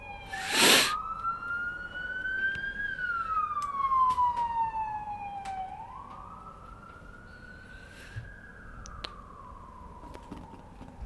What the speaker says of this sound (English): The sirens. The overabundance of cops,